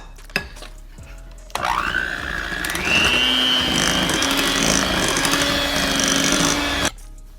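An electric mixer beats vanilla extract and espresso into chocolate cupcake batter, switching on with a click and running as a steady loud whirring hum for several seconds before cutting off.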